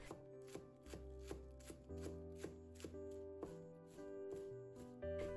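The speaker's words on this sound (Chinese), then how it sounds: "葱叶切成葱花。" Green onion leaves chopped with a knife on a cutting board, a steady run of quick, crisp knocks close by with faint background music and no talking.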